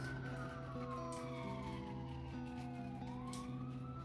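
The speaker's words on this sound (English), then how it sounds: "And I apologize if you can hear the fire truck or ambulance in the background." Wailing emergency siren from a fire truck or ambulance, rising and falling in long sweeps, steady and moderately loud in the background over a constant low hum, no talking.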